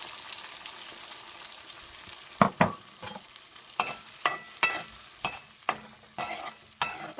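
Ground tomato paste frying in a pan for a drumstick and field bean curry, a soft sizzle under a series of sharp spoon scrapes and stirs spaced about half a second apart, close up with no voices.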